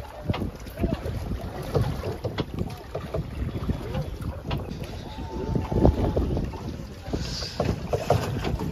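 A boat moving across a wide stretch of open water, its hull slapping and splashing in steady bursts over rushing wind buffeting the microphone, with faint voices in the background.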